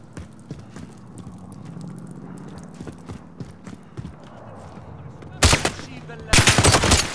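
Gunfire in Call of Duty: Modern Warfare, two loud sharp bursts near the end following quieter scattered clicks and faint background activity.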